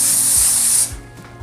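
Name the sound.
spraying cooking oil onto a pan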